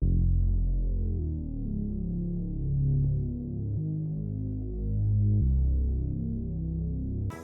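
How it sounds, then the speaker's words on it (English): A smooth, deep synth bass from a Serum preset plays sustained low notes that shift pitch every second or so, warm and steady with no other sounds. "We need more lows, so I picked the filling preset from Serum"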